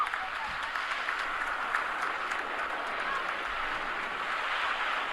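A crowd on the ground applauds during a skydiving stunt, a steady dense wash of clapping that continues evenly and fairly loud throughout.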